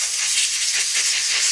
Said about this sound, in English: Blow some debris off the carburetor.